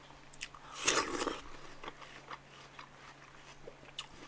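Watermelon being bitten and chewed seeds and all, with a loud crunchy bite near the start followed by softer, scattered chewing clicks up close, no talking.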